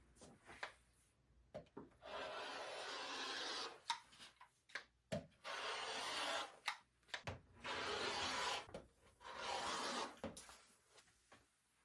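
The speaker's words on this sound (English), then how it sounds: "I'm just trimming it off a little bit so it won't be so bulky" Scissors or a rotary cutter trimming excess fabric and batting from a quilted Christmas tree skirt, heard as close, repeated rasping cutting strokes in bursts separated by short pauses, with no talking.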